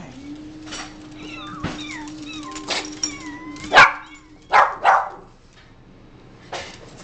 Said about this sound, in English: This is the other dog who's not homeless.